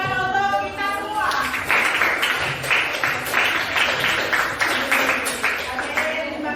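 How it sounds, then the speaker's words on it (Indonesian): Applause from a school audience at an Indonesian academic coaching session, a dense patter of clapping that builds after a moment of speech and carries steadily to the end, loud and close. "sekali lagi tepuk tangan untuk kita semua."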